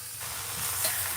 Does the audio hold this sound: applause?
no